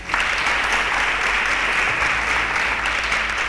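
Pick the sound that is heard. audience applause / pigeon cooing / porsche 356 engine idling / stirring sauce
audience applause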